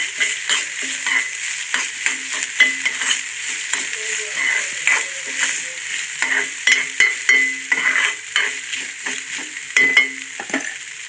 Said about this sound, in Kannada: ಸ್ವಲ್ಪ ಒಂದು ಸೌಟಷ್ಟು ಬಾರ್ಲಿ ಬೇಯಿಸಿರೋದು ಇದನ್ನೆಲ್ಲ ಸ್ವಲ್ಪ ಫ್ರೈ ಮಾಡ್ಕೊಳ್ಳೋಣ